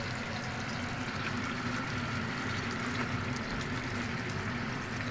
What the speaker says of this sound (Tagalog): Lagyan natin ng konting tubig.